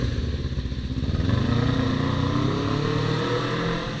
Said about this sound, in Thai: ไปแล้วนินจา400